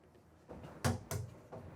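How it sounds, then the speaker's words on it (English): Soft-close drawers or cabinet doors in a 2024 Renegade XL X45BBC RV shut with a few quiet, muffled thumps and slides, close by and without talk. "with the soft closed drawers or cabinet doors"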